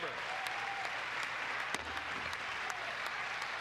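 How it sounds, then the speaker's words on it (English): A crowd in a legislative chamber claps and cheers in a steady, dense wash of applause, with a few sharp claps standing out. "look how much the other side's like cheering"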